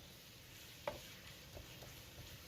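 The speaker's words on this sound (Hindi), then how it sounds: "तो उसमें प्याज डाल के तो हम इसको हल्का हल्का फ्राई करेंगे।" Chopped onions for chicken karahi frying gently in a pan, a soft continuous sizzle with one sharp clack of a utensil and faint scraping stirs, quiet and close.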